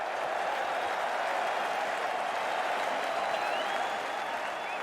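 A cricket crowd applauds England's win with sustained, dense clapping from a large stadium audience, steady and loud throughout without pause.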